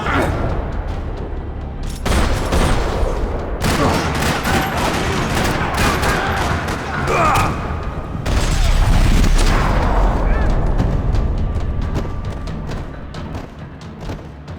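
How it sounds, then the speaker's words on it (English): Dense video game gunfire from Max Payne 3 crackles in a parking lot, with rapid bursts and heavy booming shots that swell and fade over several seconds, loud and close. "Another parking lot rattling with gunfire."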